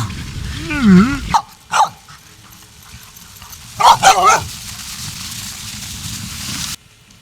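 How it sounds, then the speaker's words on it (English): Sled dogs bark and yip in several sharp, close bursts over a steady outdoor background rumble, with a faint voice heard between the barks. "Have you ever dog sledded before, Ken?"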